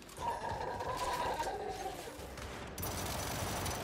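A hard-recoiling weapon in the shooter Gears 5 fires in a rapid, fairly quiet stream of shots amid game noise, with a faint tone running under the first half.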